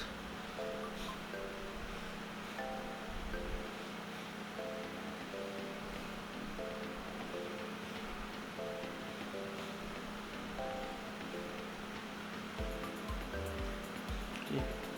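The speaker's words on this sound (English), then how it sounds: "It's already starting to simmer." Faux paella rice simmers in a pan on the stove, a soft, steady bubbling hiss that stays low and continuous under faint background music.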